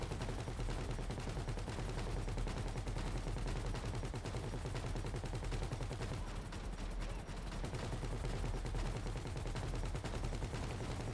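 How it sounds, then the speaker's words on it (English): Gunfire from many players fills a GTA V Online heist finale battle: continuous dense bursts of automatic shots overlapping in a loud, unbroken barrage with no talk. "It sounds cool when everyone's shooting."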